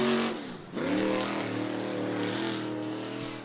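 A dirt track race car at Cottage Grove Speedway roars past, its engine note dipping briefly before climbing again into a loud, sustained whine that slowly fades as it moves on.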